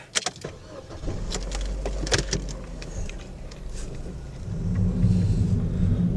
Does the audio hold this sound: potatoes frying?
no